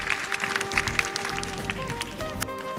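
An audience at the YouLead Summit 2023 youth event claps in a dense, steady patter, with a voice and tonal sounds mixed underneath, moderately loud and continuous through the short stretch.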